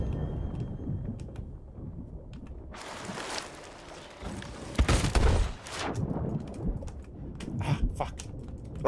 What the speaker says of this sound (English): Oh shit, that was a blunder bomb.